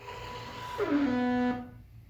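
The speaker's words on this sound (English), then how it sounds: "That's the sound of the motor being a weak little baby who can't squeeze a little bottle." A weak robot motor strains to squeeze a small bottle: its whine rises and bends upward in pitch, holds as a tense hum for under a second, then cuts off into quiet.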